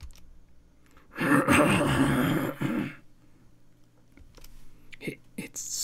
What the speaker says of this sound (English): It snores.